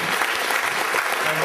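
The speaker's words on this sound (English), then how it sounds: "If she does it right, big round of applause" Audience at a magic convention show in Palmerston North clapping in steady, dense applause that stays loud and unbroken throughout, with a faint murmur of voices mixed in.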